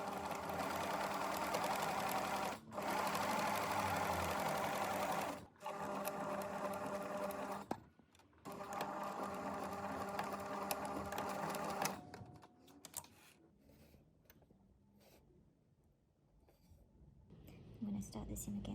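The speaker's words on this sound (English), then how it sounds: "I'll sew them together following these seam lines" A sewing machine stitches the seam of a tiered midi sun dress in loud, steady whirring runs. It pauses briefly between runs, then stops, and softer handling noises follow.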